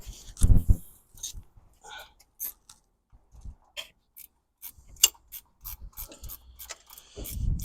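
Bolts on a Land Rover Freelander engine mount are worked loose during a timing belt change, with bursts of ratcheting clicks and metallic knocks close by, separated by pauses, and people talking briefly.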